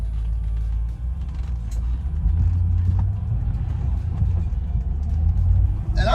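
A Land Rover Discovery 1 crawls along in low range after a custom front drive shaft install, its engine a steady, close, low rumble with faint drivetrain clunks under light cabin noise.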